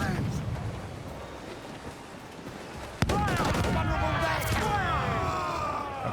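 Ship cannons fire in Assassin's Creed 4 during a naval battle, one sharp boom cutting through midway, followed by bursts of crackling battle noise and shouting voices over continuous sea and combat ambience.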